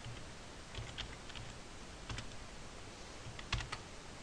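Keys tap on a computer keyboard while code is entered in a Python tutorial, in short irregular clusters of crisp clicks, close and fairly quiet with no talk over them.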